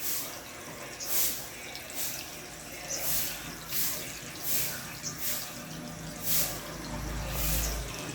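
Water flows steadily into a concrete tilapia pond, a continuous wash of splashing with periodic surges roughly every second, fairly close and moderately loud.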